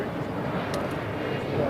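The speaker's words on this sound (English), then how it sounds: "United Airlines Flight 2059 coming in from Chicago O'Hare on a 737-800" A United Airlines Boeing 737-800 arriving at LAX from Chicago O'Hare, heard as a faint, distant, steady jet rumble; speech is likely mixed in.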